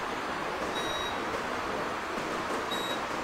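Multimeter continuity tester probing a mobile phone circuit board for shorts, giving two short, faint, high beeps a couple of seconds apart over a steady background hiss.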